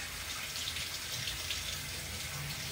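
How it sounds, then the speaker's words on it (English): Tap water runs steadily into a kitchen sink for hand washing, a continuous close splashing hiss with no one speaking. "Now I will thoroughly wash my hands, of course."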